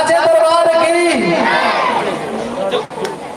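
A crowd at a live devotional event chants a loud, sustained response together, a dense near mass of voices that drops off abruptly near the end.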